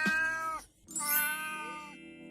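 A cat meows twice up close, a drawn-out call followed after a short pause by a longer, rising wail, clear and alone.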